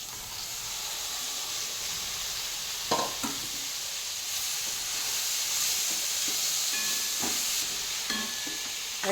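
Washed onion greens tipped into a pan of dal seasoned with turmeric, red chilli powder and salt, setting off a continuous sizzling hiss with occasional clinks and stirring scrapes, no voices.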